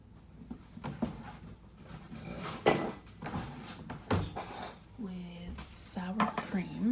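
Cream cheese, sour cream and mushrooms are worked together in a bowl for a keto casserole, with repeated clinks and scrapes of a utensil against the dish and brief speech-like sounds between the strikes.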